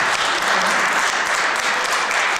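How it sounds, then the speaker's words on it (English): An audience at a school district deliberative session meeting claps in an even, continuous patter of many hands, fairly loud and unbroken, with no speech over it. "It's wonderful to sit here and clap"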